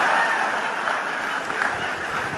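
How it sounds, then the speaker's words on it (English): An interview audience applauds, a steady wash of clapping from a crowd, moderately loud and even, with light chuckles mixed in. "Round of applause there for"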